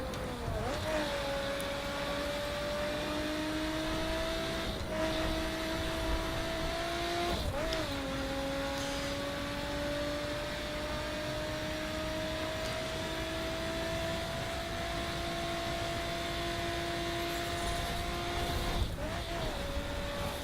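A Lotus Exige's engine drones steadily through a race in The Crew, its pitch climbing gradually and dropping sharply at each gear change, loud and continuous with road noise underneath.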